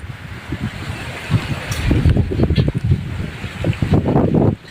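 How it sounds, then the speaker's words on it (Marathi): Strong storm wind buffets the microphone in gusty, roaring bursts, loud and close, joined by heavy rain and flowing water in a village. "आता मी वारं वादळ भरपूर आहे आज"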